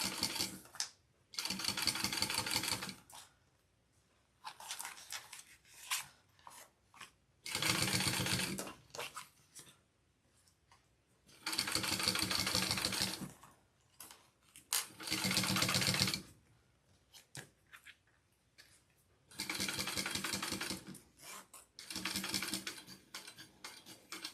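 A sewing machine top stitching a harlequin pouch, running in several distinct bursts of rapid, even stitching a few seconds long, separated by short quiet pauses, close and clear with no talking.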